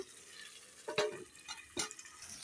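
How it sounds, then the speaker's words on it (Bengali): Chicken curry stirred in a pan just after the lid comes off, giving a few soft scraping strokes over a faint sizzle, quiet and close. "এখন দেখো ঢাকাটা খুলে একটু নেড়ে দিচ্ছি"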